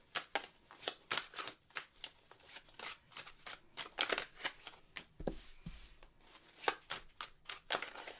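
A tarot card deck being shuffled up close, a rapid series of crisp riffling snaps and soft slaps in uneven bursts throughout, with no talking.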